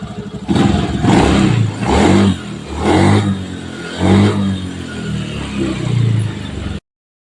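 A Honda Scoopy FI scooter engine with stalling and misfiring trouble revs up and down repeatedly, roughly five loud surges in a row, each swelling and easing back, close to the listener with no talking.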